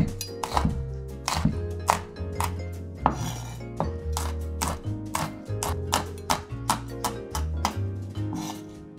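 Knife roughly chopping salad leaves on a cutting board for northern-style laksa, a rapid run of sharp close knocks with occasional pot and utensil clatter, no talking.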